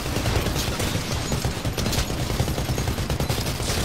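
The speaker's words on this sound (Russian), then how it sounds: "Какая-то хреновая пушка, если честно" Gunfire from a weapon in the video game Titanfall, a dense, loud, continuous barrage of rapid shots and explosions with no pause, with no talking over it.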